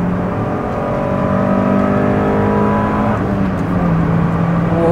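Honda CRX engine pulling hard in third gear, a loud, close, steady rising rev with climbing whine and exhaust drone, a brief shift in pitch midway before continuing to build.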